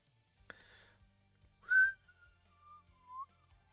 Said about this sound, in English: I don't know what I'm whistling at.